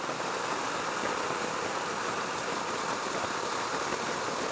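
A Husqvarna Svartpilen 401 motorcycle engine idles as a steady, even hiss-like drone that holds at constant level with no talking.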